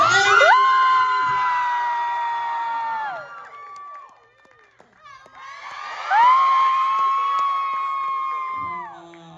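A crowd of fans shouts and cheers loudly in two long sustained bursts, high-pitched voices held together before dropping away, with a short lull between them.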